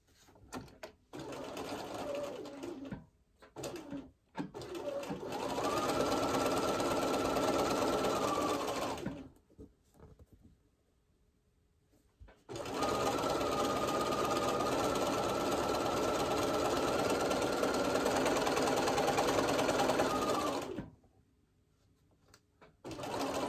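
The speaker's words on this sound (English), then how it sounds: "we'll just sew the other side on" A sewing machine stitches a scrappy quilt block of Tilda fabrics in two long, steady runs of several seconds each, separated by brief pauses and handling noise, loud and close with no talking.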